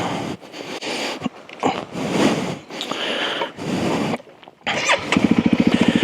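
A Honda CRF300L dirt bike fitted with a 42-tooth rear sprocket is handled and then fired up, its engine catching near the end and settling into a close, steady, pulsing idle.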